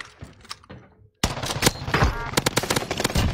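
Gunfire in the Warzone video game, with rapid bursts of sharp shots after a brief lull, loud and close. Shouted game chatter sits faintly under the opening.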